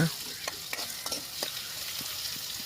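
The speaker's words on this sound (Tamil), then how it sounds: "வெங்காயம் நல்லா வதங்கட்டுங்க" Steady sizzling of onions frying in oil in a pan, with periodic scraping and clinking as they are stirred, moderately loud and close, no voices.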